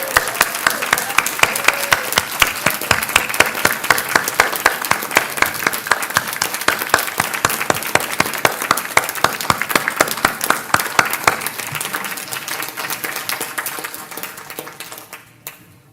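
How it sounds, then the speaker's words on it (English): Crisp, lively clapping from a church congregation at a Unitarian Universalist Sunday service thanking a member named Matt, brisk and steady for several seconds before tapering off and fading out. "please join me in a round of applause as we express our gratitude"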